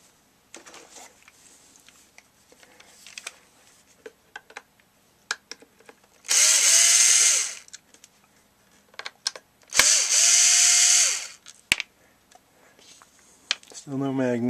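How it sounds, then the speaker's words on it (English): A power drill unscrews the bottom screws of a Sony XDR-S3HD radio in two loud whirring bursts, each a couple of seconds long, with quiet handling clicks and brief talk in between. "The next thing we gotta do is to undo these four screws on the bottom."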